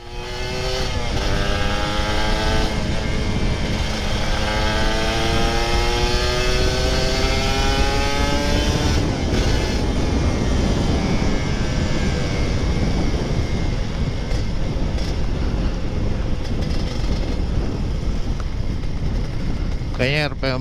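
An older Kawasaki Ninja RR 150 two-stroke engine revs loud and close, the pitch sweeping up and down through several throttle blips before settling into a rough, buzzing idle.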